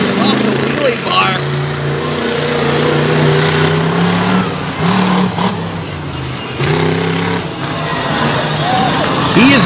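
A mini monster truck's engine roars loudly and revs unevenly as it stands straight up on its wheelie bar during a freestyle run at an Outlaws show in Canfield, Ohio, with constant crowd and arena noise.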